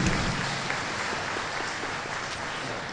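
An audience at a feast celebration claps for the Capuchin fathers and the rector, a continuous, evenly spread patter of hands that sounds somewhat distant and steady.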